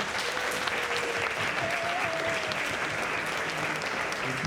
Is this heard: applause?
yes